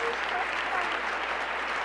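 An audience at a state high school speech competition finals applauds, a dense, steady round of clapping that fills the whole moment.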